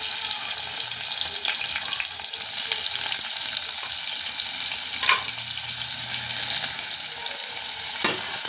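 Mixed vegetables such as potato, cauliflower, onion and garlic fry in oil with a loud, continuous close sizzle and occasional stirring clatter, no one speaking.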